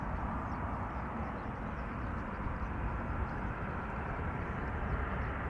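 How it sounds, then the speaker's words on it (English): A Transavia Boeing 737-700 in the old standard rainbow livery at Amsterdam Schiphol, giving a steady, broad jet roar that holds at an even level without letup, moderately distant and unbroken by voices. "It's the Transavia 737-700 that KLM has rented from Transavia."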